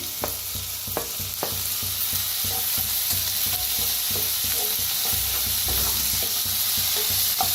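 Tomatoes added to browned onions in a pan being stirred and fried for a dry dingri (radish pod) dish; steady sizzle under repeated scraping strokes of a spoon at a close, even rhythm.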